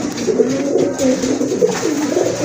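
A pigeon of the knot-crested breed coos loudly and close up, repeating rolling throaty calls throughout with no voices.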